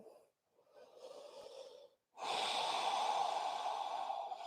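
Deep breathing during a yoga forward fold: a soft inhale, a brief pause, then a longer and louder exhale, heard close with no talking.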